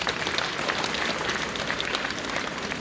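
Steady audience applause fills a church during a Simbang Gabi night mass, dense and continuous from start to finish at moderate volume, with no voices breaking through.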